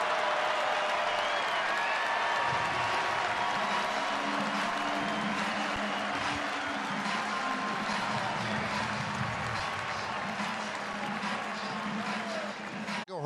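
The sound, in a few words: Yankee fans applauding departing pitcher at stadium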